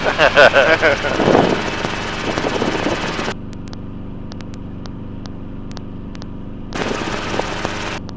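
Training helicopter lifting off, a loud rotor and engine roar with rhythmic blade chop, cutting to a quieter steady whine mid-clip before the roar returns.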